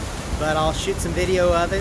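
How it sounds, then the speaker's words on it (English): Gusting wind and crashing ocean waves roar along the storm-damaged waterfront of Isla Mujeres, a loud rushing wash that runs beneath someone talking close to the microphone. "Sorry for the background wind and waves."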